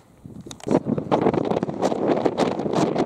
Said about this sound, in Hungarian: olyan nagy szél van